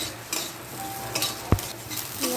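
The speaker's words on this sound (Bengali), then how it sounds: "পেঁয়াজটাও ভাজা হয়ে গেছে আর আলুটাও কিন্তু এখানে অনেকটা ভাজা ভাজা হয়ে গেছে" Onion and potato frying together in a pan for an okra-potato curry, stirred with a utensil: a steady close sizzle with scraping strokes and one sharp clack of the spoon on the pan midway.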